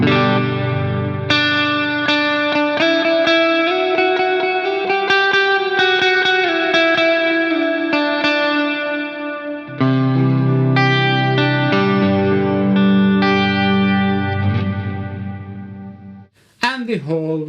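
Electric guitar played through the delay section of a Nux Cerberus multi-effects pedal: sustained, distorted chords and melodic notes with repeating echoes trailing behind, loud and continuous, ending in a quick flurry of picked notes.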